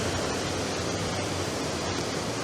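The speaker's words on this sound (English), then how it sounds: "that water runs the whole way under Binnian and drains into the Silent Valley" Water pours without a break into the mouth of the Binnian Tunnel, which carries it under the mountain to the Silent Valley. The rush is loud and close, a dense roar with no voices over it.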